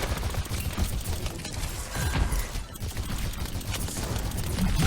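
D.Va's mech cannons in Overwatch fire constantly, a dense, continuous rattle of gunfire that runs unbroken from start to finish at moderate loudness.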